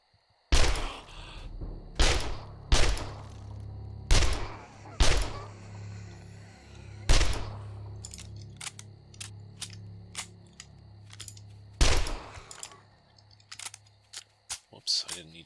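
Submachine gun fire in the zombie survival game 7 Days to Die: several sharp, loud bursts and single shots spread out with pauses between them, then a run of quicker, lighter cracks toward the end.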